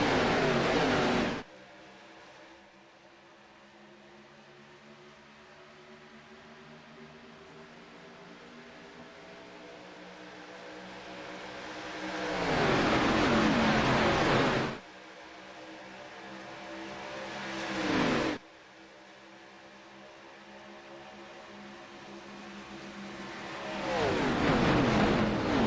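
Race cars roaring at Daytona in an ARCA racing video game, a sustained engine drone that swells into loud passing surges several times, broken by abrupt cuts.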